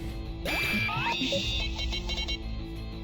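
Electronic alarm beeping in the Pokemon Reborn video game, a run of bright rising chirps and beeps over steady game music, loud and close.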